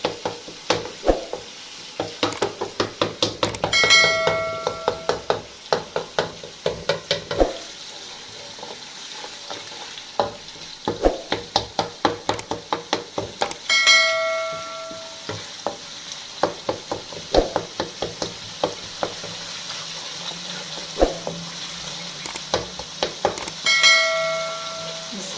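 A metal spoon presses and scrapes through cooked green beans and chicken in a pot, making repeated clinking, squelching strokes in bursts, with faint sizzling beneath and a brief clang or two.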